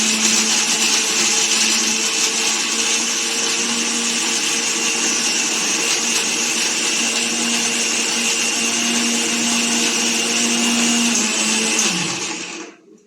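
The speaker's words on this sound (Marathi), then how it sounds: "चटणी, मिक्सरला चटणी." A mixer grinder whirs at a constant high-pitched drone while grinding chutney, running loud and close for about twelve seconds before spinning down and stopping.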